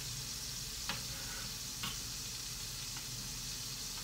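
Onions and peppers for vegan tacos fry in a pan, a steady broadband sizzle throughout with a few faint ticks of a utensil against the pan.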